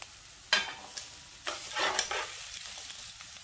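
Garlic dropped into a hot pan for Greek-style octopus sizzles and crackles, with sharp bursts as it hits the oil and is stirred, then a lighter steady frying hiss close up.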